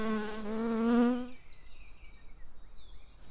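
A steady close buzz of honey bee wings vibrating to cool the hive, holding one pitch, then a quieter, wavering insect drone afterward.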